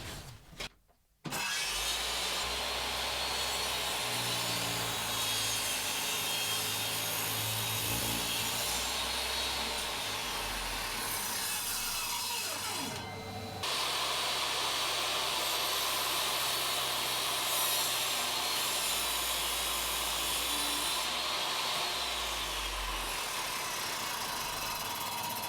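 A table saw runs loud and continuous while wooden table legs held in a locked jig are pushed through the blade, with the motor starting up and a brief dip in the cut midway.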